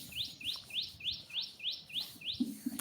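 A bird repeats a short, high chirp at a steady, even pace, about eight calls in a row, fairly close and clear over a soft background.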